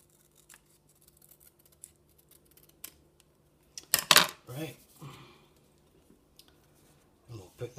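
Scissors snip through foam sheet while parts are cut out for a Jay Garrick Flash helmet prop, a quiet stretch broken by a cluster of loud crisp cuts midway and a few soft clicks after.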